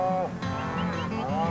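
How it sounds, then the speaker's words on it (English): Cattle mooing outdoors on green pasture near running water: two long, drawn-out bovine calls follow one another, fairly loud and close, with no talking over them. "The cows knew just what to do."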